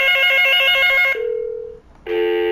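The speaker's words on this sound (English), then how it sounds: "The analog extension 8011 rings." An analog phone extension on a PBX rings with an electronic ringtone, a warbling burst, then a steady single tone, then another warbling burst, loud and close with nothing else heard.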